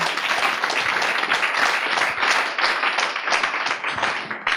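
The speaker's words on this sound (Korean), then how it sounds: "자, 박수로 주님 경안 돌립니다." Dense, steady applause from a congregation fills a church pastors' seminar, many hands clapping loudly and continuously throughout with no pauses.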